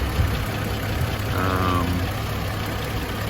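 A 1994 Toyota Land Cruiser with the heat shields removed idles with a steady, mid-level rumble, with a brief voice passing over it.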